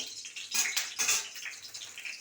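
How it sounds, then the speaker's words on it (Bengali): A dried red chilli frying in oil in a wok, giving a bright hissing sizzle that surges and pops in a few bursts, close by, with no talking. "প্রথমে কড়ার মধ্যে তেল দিয়ে নিলাম, তারপরে একটা শুকনো লঙ্কা দিলাম, সেটাকে একটু লাল লাল করে ভেজে নেব।"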